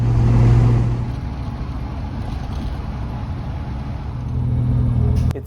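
A 1970 Jaguar E-Type 2+2 cruising at relaxed revs on the freeway, a steady low engine and road rumble heard from inside the car, with no talk over it.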